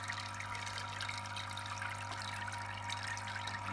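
An aquarium pump draws water and pours it back in a steady, continuous splash and trickle over a low constant hum. No one speaks.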